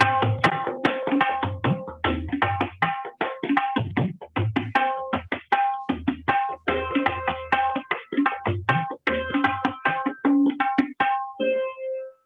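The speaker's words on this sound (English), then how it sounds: "The Garba beat is very easily recognizable," Tabla playing a Gujarati Garba rhythm, a lively repeating pattern of sharp strokes and resonant bass beats, close and clear, steady for about twelve seconds with no speech.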